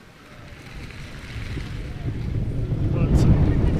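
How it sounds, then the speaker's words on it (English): A strong wind gust sweeps across an open practice field at a European field championships, a broad rushing roar that builds steadily and grows louder toward the end, buffeting the microphone. "it's a big gust"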